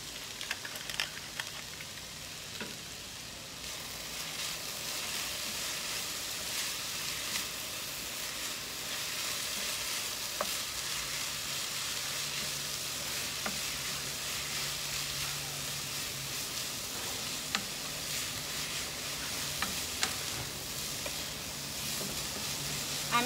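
Garlic and pepper fry in a pan for spinach and potato tacos dorados, giving a steady, close, dense sizzle with small pops that lasts throughout, with no talking.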